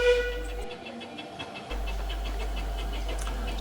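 Steady low mechanical rumble of a 123-year-old 15-inch gauge steam locomotive running on the Ravenglass & Eskdale Railway, with faint rhythmic chuffing and a brief drop in the drone partway through.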